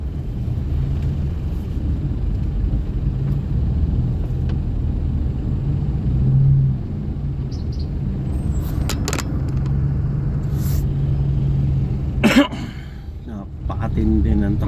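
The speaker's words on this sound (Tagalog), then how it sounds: "Napakatindi ng traffic." A car creeps through heavy, slow-moving traffic, a steady low rumble of engines and road noise throughout, with a few sharp clicks and bumps near the end.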